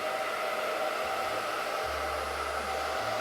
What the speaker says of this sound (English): go ahead and turn your blow dryer on